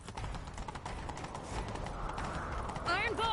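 Horse hooves clip-clopping at a gallop in The Witcher 3 video game, a steady drumming rhythm under a voice, with a whinny rising near the end.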